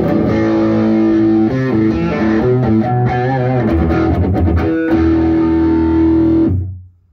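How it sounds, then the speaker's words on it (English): Electric guitar run through a Boss OD-3 overdrive pedal and Boss ST-2 Power Stack, playing loud, sustained overdriven chords and riffs that ring out and fade at the end, with no talking. "It's really kinda really good distortion, or really good overdrive."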